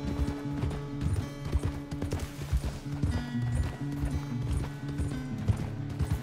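Horse hooves clip-clop in a steady rhythmic trot in the video game Red Dead Redemption 2, close and clear over low game music and ambience.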